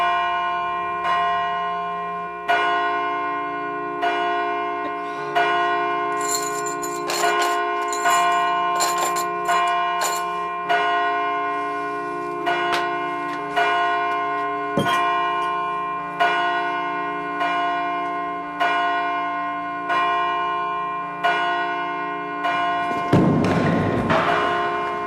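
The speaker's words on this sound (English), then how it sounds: "Let the church bells ring so that they may find their way to us." Church bells ring loud and close with a steady series of resonant strikes every couple of seconds, each ringing on and overlapping the next, plus a brief thud near the end.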